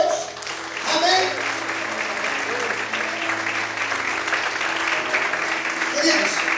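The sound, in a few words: congregation applause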